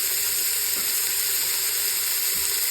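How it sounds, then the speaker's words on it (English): Onion and celery sautéing in a pot for a homemade broth, giving a steady, close sizzling hiss with faint stirring bumps, no talk over it. "our onion, about half a cup's worth, and our celery. Let that saute in there,"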